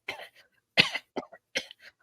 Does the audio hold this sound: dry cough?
yes